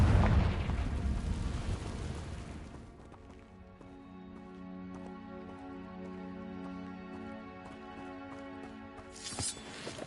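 A Confringo blasting spell detonates in a Harry Potter video game: a loud, broad burst that rumbles and fades over a few seconds, giving way to quiet sustained game music and a small crackle near the end.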